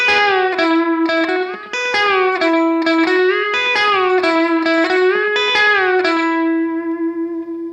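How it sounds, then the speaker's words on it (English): Electric guitar plays a pedal-steel-style lick using hybrid picking, with plucked notes rising and falling through string bends around a held bent note, driven through effects with a touch of distortion and reverb, steady and prominent with no voices. "it's kind of a pedal steel inspired lick."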